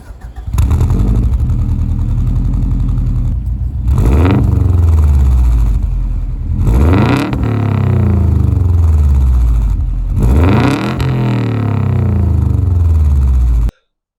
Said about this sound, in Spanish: ahora vamos a escuchar un poco este motor legendario